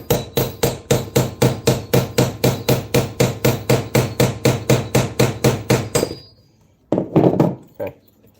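Rapid, even hammer strikes drive rivets into the webbing of a WWII M1 helmet, about two dozen loud, close blows in a steady rhythm, then a brief pause and a few final knocks.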